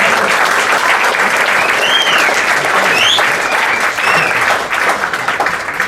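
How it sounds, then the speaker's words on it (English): At a Bitcoin event, an audience breaks into loud, close applause, dense clapping with some whoops and cheers that holds steady and then tapers slightly at the end. "give a round of applause"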